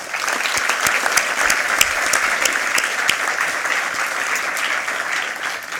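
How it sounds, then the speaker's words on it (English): A round of applause for Shannon at a HeForShe United Nations event at BCIT, a full, steady clapping from a seated audience that stays even in loudness throughout with a few sharper claps standing out. "Let's give her a round of applause"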